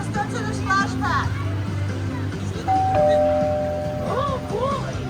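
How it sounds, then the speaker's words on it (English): A bell chiming at DreamWorks Land in Universal Studios Orlando, bright ringing tones and a sustained electronic ding mixed with playful sweeping effects, under children's chatter and adult talk in a busy play area. "Ring the bell again, see what happens."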